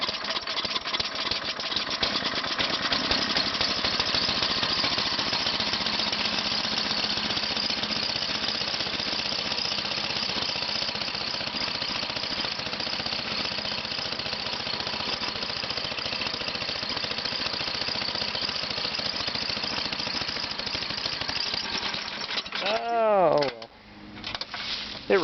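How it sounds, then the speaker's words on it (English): An old mini snowblower's small engine runs steadily and loudly for most of the stretch, with a rough idling chatter, then the throttle changes and it sputters and dies near the end. "Ooh, mini snowblower. Shit, that hasn't been running in a long time."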